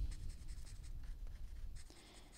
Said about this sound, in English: So let's add a 50 to color in the 50 envelope